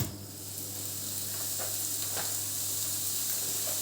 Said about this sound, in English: The lovely, lovely sizzle of meat.